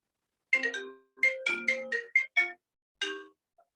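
A phone ringtone plays alone in a quiet room, a short melodic tune of bright electronic tones that repeats in quick bursts and then stops.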